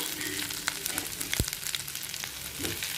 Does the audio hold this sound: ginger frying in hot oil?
yes